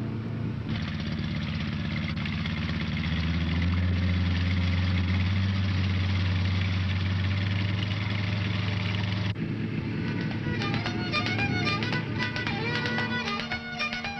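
Steady low drone of boat motors runs throughout, loud and continuous, with a shift partway through to a rougher, more varied engine sound.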